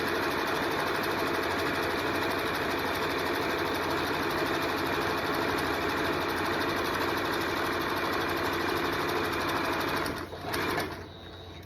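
Sewing machine stitching fabric for a reversible tote bag, a steady close whirring drone running for nearly the whole stretch before briefly faltering and settling near the end.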